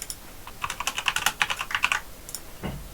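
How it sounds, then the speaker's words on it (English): Rapid keystrokes on a computer keyboard come in a quick burst of about twenty close clicks, then pause before a few final taps. They sound near and crisp, with no voices. "If we type something in French,"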